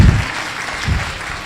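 A church congregation claps hands in a short burst of applause, loud and near, fading briefly and then swelling again.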